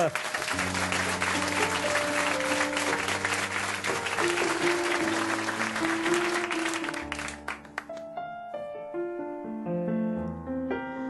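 A studio audience on a French comedy broadcast applauds a musical comedy group, a dense, loud wash of clapping that runs beneath sustained piano and vocal notes until the music continues alone.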